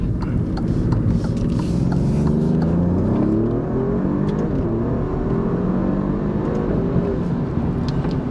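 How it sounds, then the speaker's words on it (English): A tuned 560 hp Alfa Romeo Giulia Quadrifoglio accelerates on a highway, its engine note climbing steadily through rising revs, loud and close from inside the car, with faint talk underneath. "Alright, so we'll get on the highway, give it a little gas."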